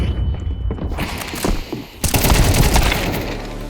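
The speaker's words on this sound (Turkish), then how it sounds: "Ulan bir mermiyi kafasına atamadın ya Kemal." Gunfire in the video game CS:GO, with scattered shots at first and then a dense, loud burst of rapid fire in the second half.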